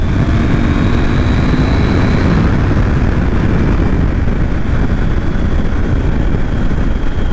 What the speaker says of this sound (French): Vaut mieux que j'accélère fort quoi. Et puis c'est pour essayer la machine.